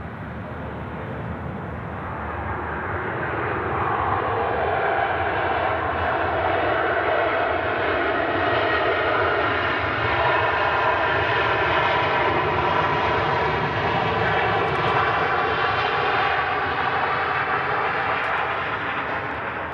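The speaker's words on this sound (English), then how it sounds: "Ryanair touching down" A Ryanair jet airliner touching down, its broad engine roar swelling over the first seconds and then holding steady and loud for the rest of the pass, with no voices over it.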